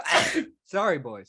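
A single sharp sneeze bursts out loud and close, followed right after by a brief spoken apology.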